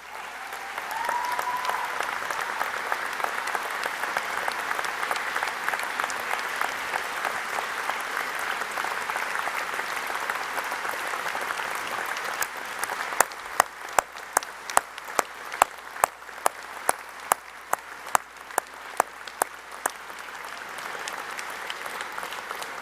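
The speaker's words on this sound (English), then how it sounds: "stand and show your appreciation by way of applause to those who have supported you along the way." Graduates at a university graduation ceremony stand and applaud their supporters, a steady wash of many hands clapping that runs throughout, with louder individual claps popping out near the end.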